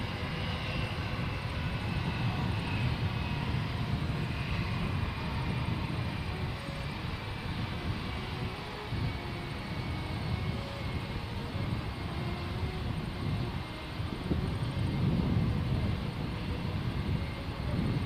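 A distant airliner approaches during plane spotting, its engine producing a steady, broad roaring hum with faint tonal whine that holds evenly throughout.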